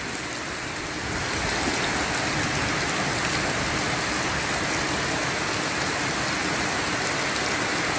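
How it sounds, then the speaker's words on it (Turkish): Heavy rain pours down outdoors, a dense, loud, continuous hiss of drops striking surfaces that swells after the first second and then holds steady, close by, with no voices. "Yağmur çok gürültülü yağıyor."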